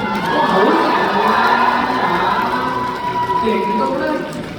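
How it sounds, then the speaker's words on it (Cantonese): Fans at an album signing event in the Tsing Yi mall cheer and shout loudly and continuously, a dense, close crowd roar with high excited voices that fades slightly near the end. "喂，俾啲掌聲啊！"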